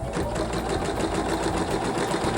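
Embroidery machine stitching the first color of a Y block onto bare stabilizer, a steady, fast mechanical whirring hum with rapid needle chatter running continuously at moderate level.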